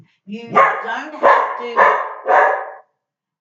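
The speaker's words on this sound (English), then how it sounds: "That was my dog." A dog gives four quick, evenly spaced barks, close and loud, with a short phrase of speech overlapping the start.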